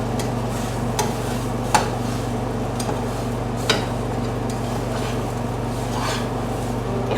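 Eggs frying in butter in a pan, a soft steady sizzle over a low hum, with occasional sharp clicks of a utensil against the pan.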